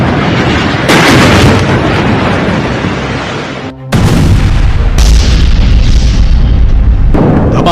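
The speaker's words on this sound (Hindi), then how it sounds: "धमाकों का शोर अब और तेज होने वाला है।" Explosions and artillery blasts in Gaza, heavy and continuous, with a long rumbling roar that cuts off abruptly, then resumes with dense repeated booms and bursts, loud and close, no voices.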